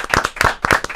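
Several sharp, close hand claps in a quick irregular rhythm, a short loud burst of applause in a small booth for a senate candidate.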